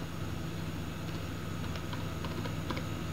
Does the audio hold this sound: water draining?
no